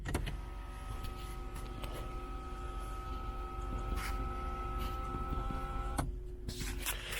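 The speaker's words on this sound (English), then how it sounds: "It has like a canvas shade now that closes automatically" A 2020 BMW G20 330i xDrive sunroof's canvas shade closes automatically with a steady electric motor whine that runs for about six seconds, then stops abruptly.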